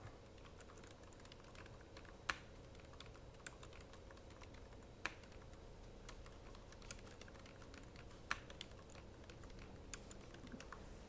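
Soft, steady keyboard typing with a few sharper clicks of heavier keys such as Enter or Backspace, at low level against a quiet room hiss; no talking.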